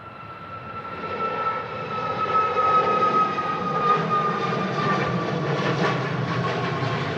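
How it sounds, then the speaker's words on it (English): A Ryanair Boeing 737 MAX 8-200 departs Manchester Airport in strong crosswinds, its jet engines a steady, loud roar with a high whine that builds and holds throughout, heard from nearby without talk. "Another Ryanair going out, 737 MAX 8200."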